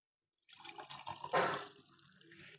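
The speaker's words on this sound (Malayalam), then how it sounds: "നമുക്കിനി ഇത് സെർവിങ് ഗ്ലാസ്സിലേക്ക് മാറ്റാം." Short gurgling pour of green mango buttermilk into a serving glass, close and quiet, building briefly then tapering off, with no voices.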